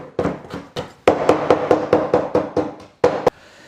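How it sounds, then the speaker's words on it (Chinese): A kitchen knife chops pickled chilies on a cutting board: about a dozen sharp, close knocks in a steady rhythm, broken by a short pause near the end. "泡辣椒先给它切一下，"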